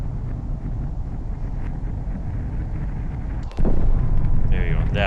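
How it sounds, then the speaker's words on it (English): A spacecraft in the game Flight of Nova switches engines and blasts straight upward, a steady windy roar that suddenly swells into a louder, harsher thrust near the end, with a voice faintly talking underneath. "this thing going vertical, switching its engines, and rocketing up"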